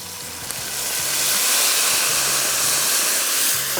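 Spices and yogurt frying in a pan for a chicken Awadhi qorma, a continuous bright sizzle and hiss that stays loud and close from start to finish.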